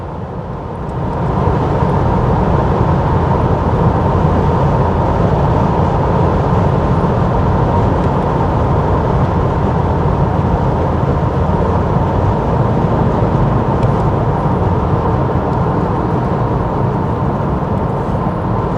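Opel Insignia A 1.6 with a 136 hp engine on a road test after a heavy engine overhaul, giving a steady, loud interior drone of engine and road noise that holds constant throughout with no talk.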